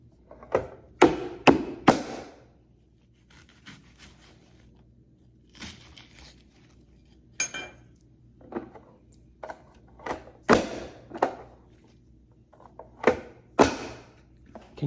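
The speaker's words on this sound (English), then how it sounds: "Dice up this onion." A knife dices an onion on a cutting board for homemade cornbread dressing. Sharp, close chopping taps come in irregular bursts, some quick runs of strikes and some lone cuts, with short quiet gaps between them.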